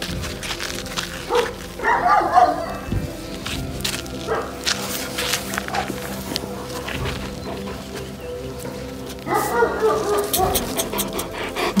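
Central Asian Shepherd dogs whine, pant and bark excitedly at close range in a steady busy stream, with a person talking and cooing to them throughout.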